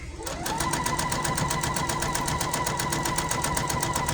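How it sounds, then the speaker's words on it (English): Sewing machine double-stitching a gnome wig, starting up and then running in a fast, steady, rhythmic needle clatter with a continuous motor hum, loud and close throughout. "Go all the way up, kind of just turn and double stitch it."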